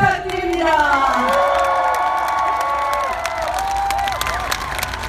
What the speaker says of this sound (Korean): 문재인 후보를 향해서 우리와 같은 박수 부탁드립니다